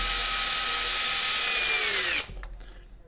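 A power screwdriver drives screws on an Arrma Outcast 4s V2 RC car: a steady, close, high-pitched motor whine holds for about two seconds, then cuts off sharply and leaves near silence.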